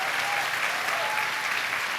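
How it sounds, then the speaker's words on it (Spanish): A church congregation claps for the Lord during a Spanish-language sermon, a dense unbroken wash of applause that stays even and fairly loud throughout, with a faint tone briefly above it. "Dale un aplauso al Señor, no te detengas"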